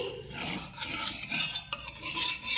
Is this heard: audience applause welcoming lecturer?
no